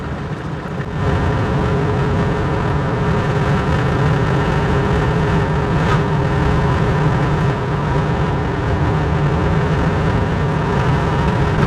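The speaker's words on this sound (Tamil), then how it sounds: "இந்த Baleno two thousand five hundred ஆர்பிஎம்மில் நூறு கிலோமீட்டர் ஸ்பீடு கரெக்டாக போகுது" A Maruti Baleno car cruising at about 100 km/h with the engine near 2500 rpm, heard from inside as a steady low drone of engine and road noise, loud and unbroken after a brief quieter start.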